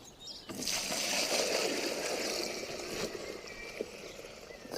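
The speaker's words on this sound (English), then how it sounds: "I'm going to put this into a bucket because it's easier to pour" Liquid pours steadily into a bucket in a summer garden, a sustained close splashing gush that starts abruptly and runs on with small surges and gurgles, with no talk over it.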